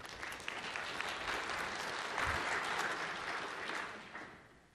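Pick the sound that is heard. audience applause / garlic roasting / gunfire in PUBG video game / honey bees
audience applause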